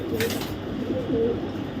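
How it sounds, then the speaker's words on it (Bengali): A female racing pigeon gives a couple of low, soft coos close by, brief murmuring notes over a steady background hiss. "এটা একটা মাদি কবুতর"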